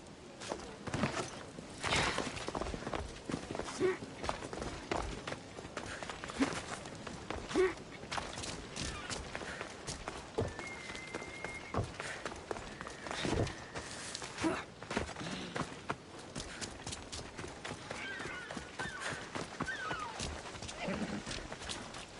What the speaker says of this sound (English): That's a nice horse, Socrates. It's a very nice horse. A sturdy horse.